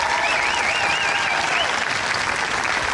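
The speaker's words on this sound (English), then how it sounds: "He deserves a round of applause for the service to this great country." An audience honors an Army veteran with sustained applause, a thick, continuous wash of clapping at full volume from start to end, with a faint whistle-like tone drifting through early on.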